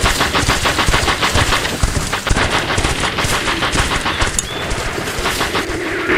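Sustained machine-gun fire from a film battle scene rattles in rapid, unbroken bursts, loud and dense throughout with a faint bird-like chirp near the end.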